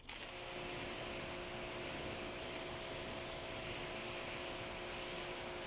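A close, loud, steady water spray rinses a car's painted panel, a dense hissing rush that holds at an even level throughout.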